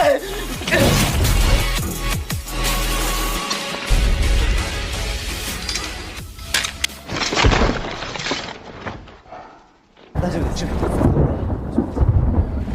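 Loud thunder and a lightning strike crash and rumble in bursts, with a sharp, shattering crack partway through, then a cut to silence before the heavy rumbling returns.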